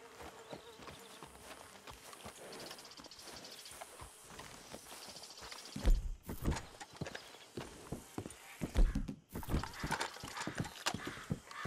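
Horses' hooves in Red Dead Redemption 2 clip-clop at a slow walk, growing louder with heavy thuds midway, alongside insect buzzing and a faint whinny, with no talking.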